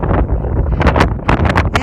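Gusty wind on a bridge at Cajon Pass buffets the microphone in loud, uneven bursts and roars.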